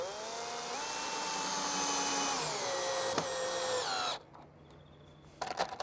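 Power drill boring into the end grain of a timber piece for a crossbeam on a vintage wire crate plant cart, a steady loud whine with pitch sagging under load for about four seconds, then stopping with a brief rev near the end.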